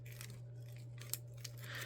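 Soft, quiet snips of Stampin' Up! scissors trimming paper, a few light cuts spread out over a low steady hum, no talking.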